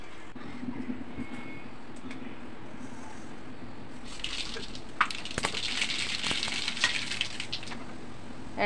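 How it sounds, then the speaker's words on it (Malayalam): Mustard seeds and curry leaves hit hot oil for a tempering, a faint background hiss suddenly bursting into loud crackling and sharp popping spatters midway, continuing close and busy to the end. "എണ്ണ ഒഴിച്ച് എണ്ണ ചൂടായപ്പോൾ കടുക് ഇട്ട് കൊടുത്ത് കുറച്ച് കറിവേപ്പില ഇട്ട് കൊടുത്ത്"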